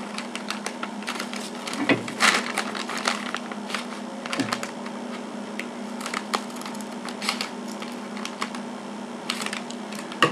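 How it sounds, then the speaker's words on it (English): Scissors snip through folded paper up to a fold line while making a small handmade book, a quick series of close crisp cuts and crinkles over a steady low hum. "So you're going to use your scissors and cut all the way up to this line here"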